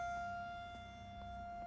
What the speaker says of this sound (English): That siren is so loud and obnoxious and annoying.